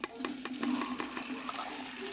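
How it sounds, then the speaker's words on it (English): Flour is stirred into melted butter in a pot to make a roux for vegetarian gumbo, giving rapid rhythmic scraping strokes with a soft wet sizzle underneath, close and steady. "And as you add it in, stir"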